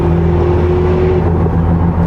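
A McLaren hybrid supercar accelerates through a town, giving a loud, continuous, smooth drone with a steady whining tone that holds throughout.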